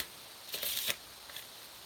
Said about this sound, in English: And then you'll want to shuffle.